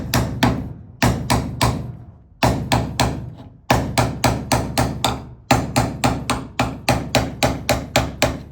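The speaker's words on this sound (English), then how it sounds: "you put the pry bar like that under the lip, and then you just take a hammer, and you just gently tap it" Sharp metallic hammer taps on a pry bar come in quick bursts of three to five, ringing briefly against metal, with short pauses between groups, while removing trim from a 1971 Plymouth Roadrunner.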